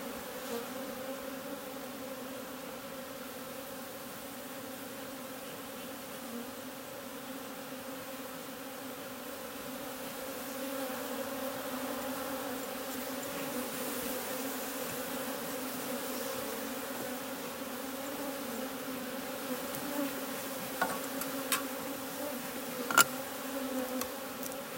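Honeybees at a beehive hum steadily, a dense continuous buzz from many insects with a few brief louder passes near the end.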